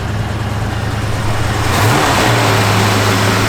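A 1965 Ford Mustang convertible engine running loud and close, a rough idle that rises sharply into a rev partway through and then holds at a higher, steadier drone.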